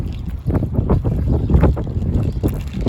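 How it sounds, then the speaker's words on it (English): Gusty wind in Chattanooga buffets the microphone in rough, low rumbling bursts, loud and continuous. "And it's windy in Chattanooga today."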